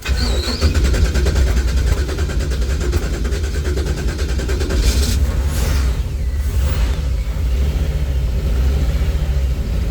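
A Toyota with an LS V8, unused for two or three months, cranks and catches, its loud engine settling into a steady, rumbling idle that runs without pause; no one speaks.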